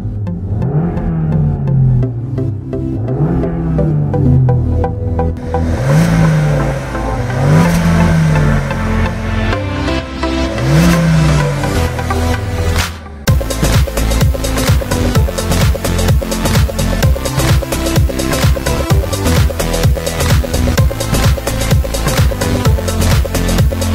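A 2018 Suzuki Swift Sport, a 975 kg, 140 hp hatchback, accelerates hard on Spanish roads, the engine revving up in repeated rising sweeps through the gears, then a loud, busy, sustained run with no voices.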